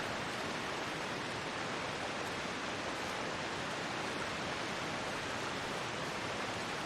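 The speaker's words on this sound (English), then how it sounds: "There's quite a lot of noise in this region because of all the waterfalls." Waterfalls in the Hushed River Valley of the video game The Long Dark give a steady, even roar of rushing water, continuous and fairly soft, with no other sounds.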